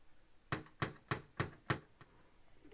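Five sharp, evenly spaced knocks on a door ring out loud and close, followed by a fainter sixth tap, with silence in between.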